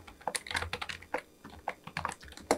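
A computer keyboard being typed on while web code is written, quick irregular clicks and key taps in short bursts, close and fairly quiet, with no speech.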